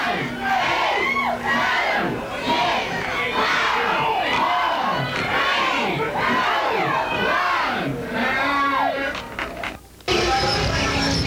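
A large festival crowd fills downtown Helena, Arkansas, a dense, steady roar of shouting and cheering voices close by, with a brief drop near the end before the noise resumes.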